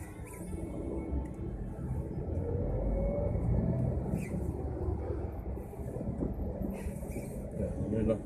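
Light, slow-moving traffic on Jalan Yos Sudarso in Tebing Tinggi, a steady close rumble of car and engine noise with a passing heavy vehicle, while someone narrates over it throughout.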